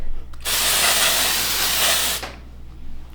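Glitter hair spray is sprayed from a can in one steady, close hiss lasting under two seconds, then stops, with quiet room sound before and after.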